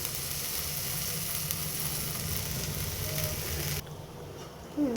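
Thinly sliced potatoes, onions and pointed gourd frying together in a pan make a steady close sizzle that drops to a quieter hiss near the end, followed by a couple of faint knocks.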